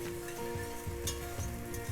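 Two tablespoons of minced garlic sizzle steadily in a hot pan for a casserole, a close, continuous crackling fry with a few faint scrapes as it is stirred.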